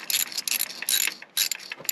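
Bolts being loosened on a rock crawler with a hand tool, heard as a series of quick, close, bright ratcheting bursts with short pauses between them.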